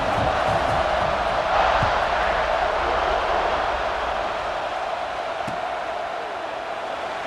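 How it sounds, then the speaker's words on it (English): Stadium crowd in a college football video game roaring at kickoff, a broad, steady wash of cheering that fills the whole stretch and fades slightly toward the end, with no speech over it. "this crowd now ready to get behind them"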